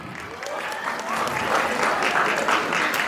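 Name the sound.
audience applause for grade 9 at school farewell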